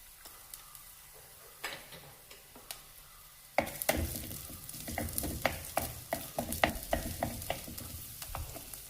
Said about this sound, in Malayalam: അതിലേക്ക് ആദ്യമേ അരിഞ്ഞു വെച്ചിരിക്കുന്ന വെളുത്തുള്ളി ചേർക്കാം.